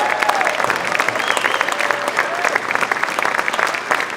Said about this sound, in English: Connor, you got a round of applause.